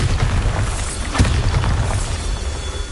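A Bombarda spell blast in the video game Hogwarts Legacy: a loud, close boom with a sharp burst near the middle over a dense rumbling, crackling background.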